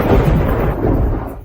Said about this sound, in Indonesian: Itu aneh, hari cerah, mengapa tiba-tiba ada guntur?